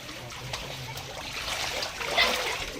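Rainwater floods into a house, trickling and splashing softly at close range with a low, uneven watery patter that briefly grows louder.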